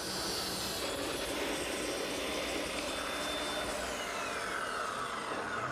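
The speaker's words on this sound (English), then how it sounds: "I'm just rounding over the edges with a 1/4 inch radius bit" A router with a 1/4 inch radius bit rounds over the edges of a wooden push stick in a woodworking shop, a steady high-pitched whine with a broad rushing roar that runs continuously and evenly throughout.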